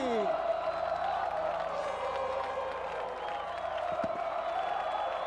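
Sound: crowd cheering after MotoGP San Marino race win

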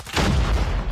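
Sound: Type 25 rifle gunfire in a video game

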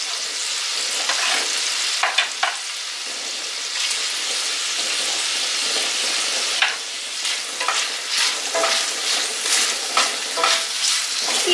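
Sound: sausage and bacon frying in a pan for żurek

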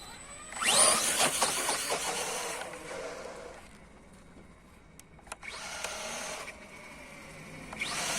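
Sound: Remo Hobby M Max RC car motor revving

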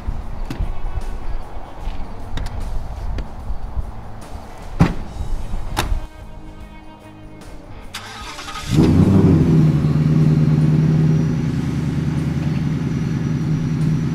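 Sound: twin turbo Coyote engine Ford F100 revving, custom exhaust

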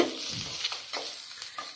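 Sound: onions sautéing in a pan

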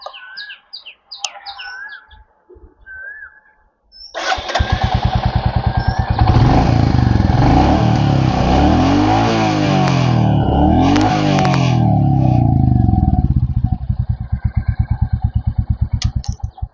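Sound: loud motorcycle engine starting and running

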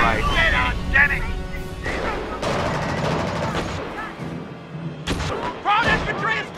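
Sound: gunfire in Company of Heroes video game

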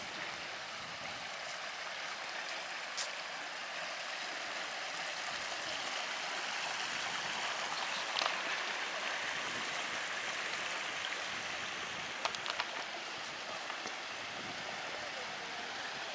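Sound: mountain stream flowing beside the trail

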